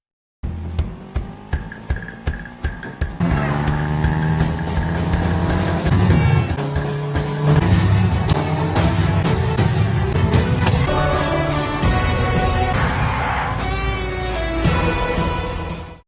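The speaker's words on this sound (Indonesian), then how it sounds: "Khalid berusaha untuk keluar dari mobil dan mengejar Kabir, dan terjadilah kejar-kejaran di antara mereka berdua" Film car chase with engines roaring and revving at high volume, tires squealing and dramatic score underneath; the scene opens with sharp rhythmic hits before settling into a continuous, intense blend of motor noise and music.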